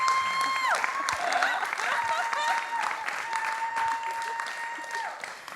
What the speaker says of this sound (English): Can we have a round of applause for authenticity?